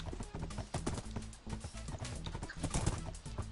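Horse hooves clip-clop steadily in Minecraft, a quick repeated rhythm of game footfalls heard close and fairly loud against a busy game soundtrack.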